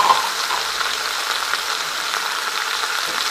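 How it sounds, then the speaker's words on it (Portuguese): Meat with onion and garlic frying in a pot, a steady close hiss and sizzle with no talk. "As carnes estão aqui já fritando. E aí agora eu vou jogar a cebola e o alho."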